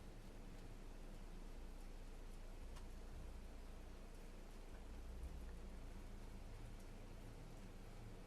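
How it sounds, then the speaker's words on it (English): Rain falls in the Planet Crafter video game on a moon, a dense unbroken wash of falling water with a low rumble beneath, steady and fairly loud, with no voices. "It's raining, it's pouring."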